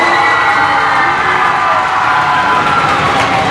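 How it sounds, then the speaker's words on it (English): A school spelling bee audience applauds a contestant, dense continuous clapping mixed with some cheering, loud and close, holding steady throughout without a break. "Let's give her a nice round of applause."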